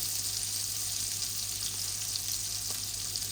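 Koi fish sizzle and fry steadily in hot oil in a pan, a constant dense crackle with no talking.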